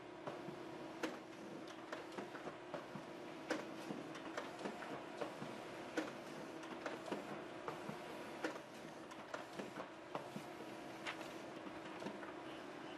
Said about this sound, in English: I'll bring you a little closer to the printer so you can kind of see it coming out